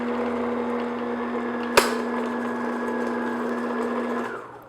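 An electric mixer beats flour into chocolate cupcake batter at medium-low speed, giving a steady, close motor whine with one sharp click partway through before it winds down.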